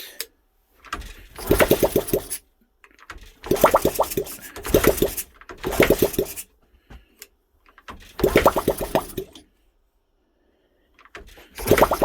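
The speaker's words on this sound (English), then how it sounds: "We heard the Z50 donated engine run." A Honda Z50 small motorcycle engine revs in repeated bursts, roaring for a second or two, then dropping to near silence between each rev.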